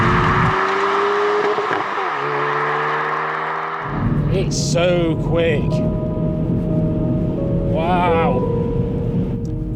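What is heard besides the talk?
Hyundai i30 N car engine while driving, rev-matched gear changes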